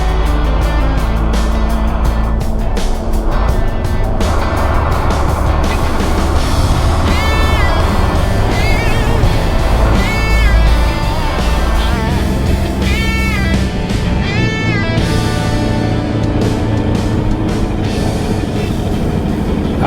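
An old Volvo F87 truck engine drones continuously and loudly while driving, losing some power, with gear and road noise and occasional whining tones, no voices.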